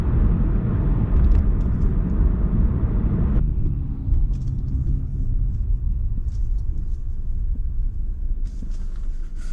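Light Sunday road traffic in Canada, a steady low rumble of passing cars that fills the clip continuously, moderately loud and close, easing slightly partway through, with no talking.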